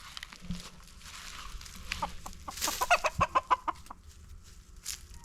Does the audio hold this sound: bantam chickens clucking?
yes